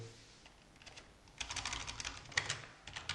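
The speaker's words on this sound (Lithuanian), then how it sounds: "spaudžiu Delete klavišą, kad pasirinkti." Keys on a computer keyboard are pressed during accounting software data entry, a faint, quiet run of quick, uneven taps that grows busier and closer partway through.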